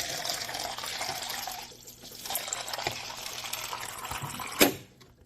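Water gushes steadily from the nozzle of a Brita standard filter dispenser into a cup, a continuous close pour that dips briefly, resumes, and ends with a short clunk as the flow stops.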